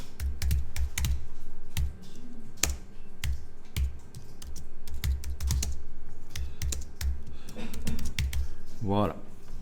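Steady clicking keystrokes on a computer keyboard as a title is typed into InDesign graphic design software, close and continuous with short pauses, and a brief rising electronic tone near the end.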